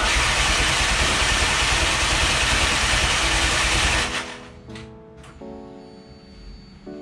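A Renault F4R turbo engine, worked on by hand, roars loud and steady at close range for about four seconds, then drops to a rougher, uneven idle with intermittent knocks and rattles.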